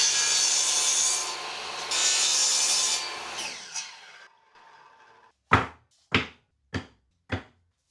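Wooden floor slats for a quail cage being cut with a 7-degree bevel. A few long, close rasping saw strokes are followed by four short, sharp strokes, with no other sound.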